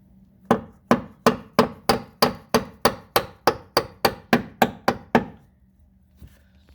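Fourteen sharp, evenly spaced hammer blows in a quick steady rhythm, close and loud, then a faint knock after a pause, while mounting a brake hose clip on a 2011 Kia Optima.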